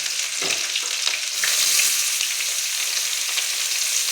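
Steady, loud sizzling of chopped onions frying in hot coconut oil, a continuous close crackle with occasional stirring scrapes.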